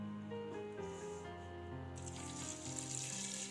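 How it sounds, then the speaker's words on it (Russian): Water pours into a blender holding soaked soybeans for homemade soy milk, a soft splashing fill that grows brighter halfway through, heard close and faint under a low background hum. "И заливаю водой."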